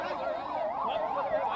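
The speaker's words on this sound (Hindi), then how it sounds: "देखिए, एम्बुलेंसेज निकल रही हैं" Ambulances leave the Uttarkashi tunnel rescue site with a wailing siren rising and falling steadily, somewhat distant amid background crowd noise.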